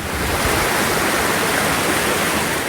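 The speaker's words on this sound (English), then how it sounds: "a water main burst here on the Chase Road at Turramurra" Water gushing from a burst water main on a suburban road at Turramurra, a loud, steady roaring rush of water that fills the scene without pause.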